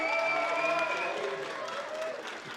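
Convention crowd at MCM Birmingham applauding and cheering for Star Wars C-3PO actor Anthony Daniels, a steady dense wash of clapping with tonal whistles or cheers riding over it, fairly loud and continuous throughout.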